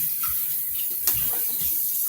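A kitchen tap runs steadily while hands are washed beneath it, giving a continuous close splashing with a brief sharper splash midway.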